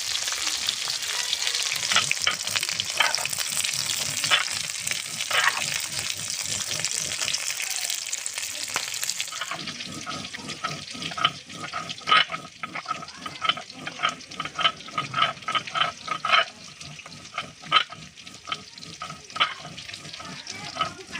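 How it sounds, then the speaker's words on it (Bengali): Small fish frying in oil in a pan for a Bengali fish meal, a loud continuous hiss that turns into a busier crackle with spatter pops and occasional stirring later on, with no voices. "সুন্দর করে মাছটা ভেজে নেব খুব কড়া করে ভাজবো না আবার কাঁচাও রাখবো না"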